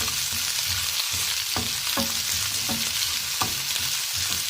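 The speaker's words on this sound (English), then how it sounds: "I'm adding my vegetables. Then I'll stir fry it" Vegetables stir-frying in a pan, a loud continuous sizzle broken by regular scraping strokes of the spatula, about one every half second.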